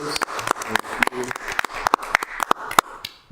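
A round of applause for volunteers at a city council meeting, sharp scattered claps from a modest group with a few louder hand strikes, fairly close and fading slightly toward the end, with faint voices underneath.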